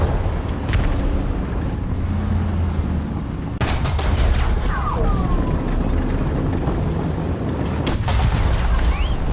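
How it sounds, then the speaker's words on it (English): In a tank combat video game, heavy booms and sharp gunshots strike the vehicle at scattered moments over a constant rumbling engine and battle din. "I'm getting shot at from everywhere."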